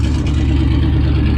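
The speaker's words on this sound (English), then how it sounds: "I had to hold the terminal while she cranked it over, but it fired right up. It's idling great." A car engine fitted with stage 2 cams idles just after starting, giving a loud, close, slightly uneven low rumble with a steady pulsing beat.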